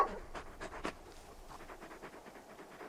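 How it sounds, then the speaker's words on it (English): Torgal, the big dog from Final Fantasy XVI, pants in quick, faint breathy bursts close by, a steady run of short huffs with no talk over it. "You're just a big puppy, aren't you? A very big puppy."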